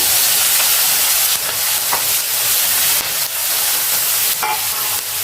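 Onion and turmeric fry in a pan with curry leaves, giving a loud continuous hiss and sizzle, broken now and then by soft stirring scrapes, no voices.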